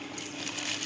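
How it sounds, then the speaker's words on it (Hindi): Rice is added to a pot of rolling boiling water for chicken biryani, making a short watery splash and slosh over the bubbling boil. "अब हम इसमें चावल ऐड कर रहे हैं।"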